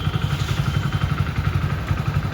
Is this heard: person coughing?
no